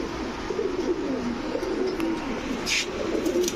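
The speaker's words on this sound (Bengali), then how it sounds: "টকটকা লাল গিয়ারের একটা ফুল ফ্রেশ ম্যাকপাই নর কবুতর" Male high-flyer pigeons, including a red-eyed magpie and a large gola, coo softly and steadily at a pigeon farm sale, with low rolling calls overlapping continuously and no talking.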